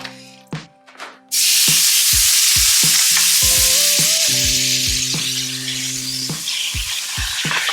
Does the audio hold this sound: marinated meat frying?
yes